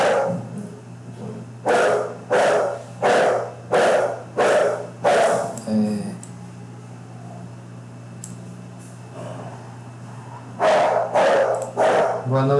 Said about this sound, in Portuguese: Os cachorros aqui estão dando briga aqui